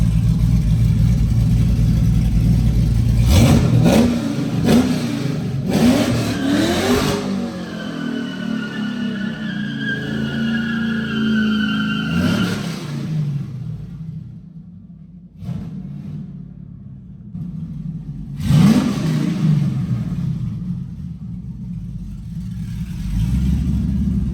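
A rowdy drift car, fitted with a replacement engine, revs hard in repeated bursts at a speedway, loud and close, its engine rising and falling between short quieter idling stretches.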